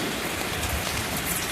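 Heavy rain pouring down in the countryside, a dense, loud, unbroken hiss of drops striking surfaces close by, steady throughout with no voices.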